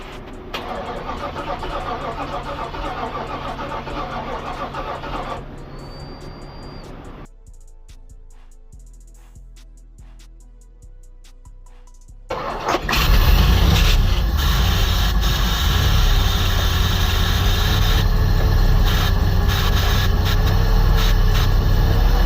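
A 1996 Chevrolet Camaro Z28 with an LT1 V8, just back together after a head gasket job, cranks weakly on a failing battery, goes quiet briefly, then catches and runs with a loud, steady close-up idle.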